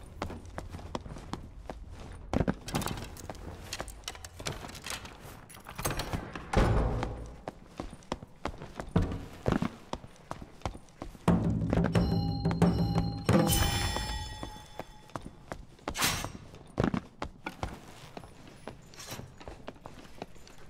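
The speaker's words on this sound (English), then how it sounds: "I hear footsteps on the other side of this door" Footsteps in Dark and Darker behind a door, a run of muffled, irregular thuds and clacks, with knocks and clanks from the game around them and no speech.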